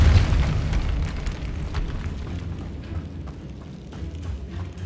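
A force spell is cast in the PS5 game Hogwarts Legacy, giving a dense, booming magical blast with a sharp onset that rumbles and decays over several seconds, close and loud, with no talk over it.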